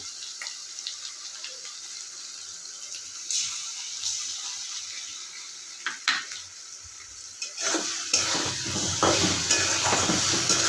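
Dry red chillies, cumin and cardamom paste go into hot oil in a pan for a spicy pangas fish curry, giving a steady close hiss with light stirring clatter that grows louder and busier toward the end.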